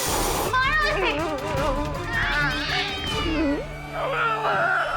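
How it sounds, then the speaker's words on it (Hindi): A cat meows repeatedly in drawn-out, wavering cries, close and loud, one after another with short gaps, while a person speaks briefly alongside. "ये बिल्ली इधर"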